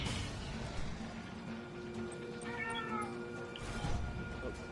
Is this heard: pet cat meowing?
yes